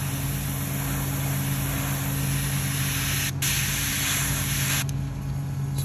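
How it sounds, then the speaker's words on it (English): Airbrush spraying white paint onto a perch fishing lure, a steady close hiss running unbroken with two brief interruptions, no voices. "Sometimes white is kind of a tricky color to spray. It likes to clog the airbrush."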